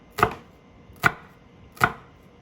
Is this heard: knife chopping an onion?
yes